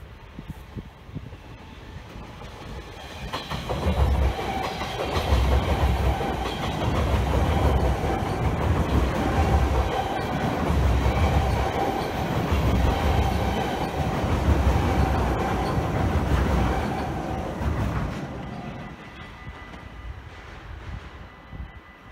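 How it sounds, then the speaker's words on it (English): A train rumbles past close by on a Dutch railway bridge without overhead wires, a steady loud rolling roar with rhythmic rail clatter that builds, holds, then fades away. "a train glides over the bridge without getting any traction"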